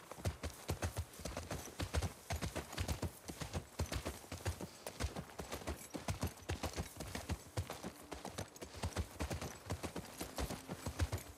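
Horse hooves clip-clop steadily in The Last of Us Part II, a quick, even rhythm of close hoofbeats running throughout, with no talk over them.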